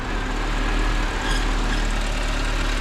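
A used European car's engine idles steadily with a slight drive belt noise. The low, even rumble holds at a constant loudness, with a faint whine riding over it.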